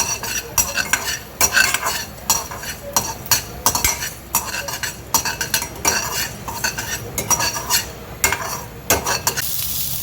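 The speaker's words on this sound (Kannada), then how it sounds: "ಧನಿಯಾ ಕಾಳು ಹಾಕ್ಕೋಬೇಕು, ಅದನ್ನು ಡ್ರೈ ರೋಸ್ಟೇ ಹುರ್ಕೋಬೇಕು." Coriander seeds dry-roasting in a pan for masala dosa, stirred briskly with a metal spoon: rapid rhythmic scraping and rattling strokes against the pan, loud and close, with a light sizzle beneath and no talking.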